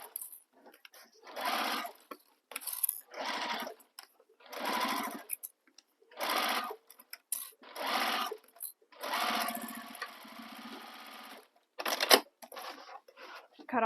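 A sewing machine stitches a tote bag gusset corner in a series of short, regular bursts separated by brief pauses, close and clear, with speech in between.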